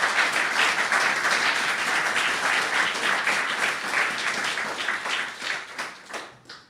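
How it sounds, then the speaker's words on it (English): An audience applauds panelists at an anniversary celebration event, dense steady clapping throughout that gradually thins and fades near the end. "Give them all a round of applause."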